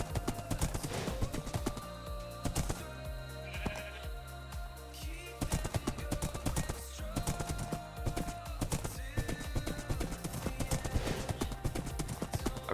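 Horse hooves clip-clop steadily in Minecraft Bedrock, a rapid rhythmic run of clear hoof beats that continues through the clip, with a few animal bleats mixed in and no talking.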